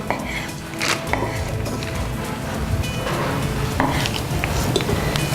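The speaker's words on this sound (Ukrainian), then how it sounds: "Серединку врізаємо таким великим кубіком. Це все нарізаємо." A knife chops boiled meat into cubes on a cutting board in scattered, irregular knocks, close by, with light kitchen clatter between strikes.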